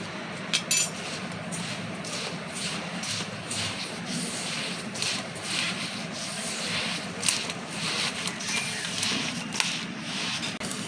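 Semolina stirred into a pale biscuit batter in a bowl, a steady scraping and rubbing with small clinks of a spoon against the bowl, close and continuous with no voices.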